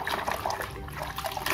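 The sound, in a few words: rinsing toy trucks with water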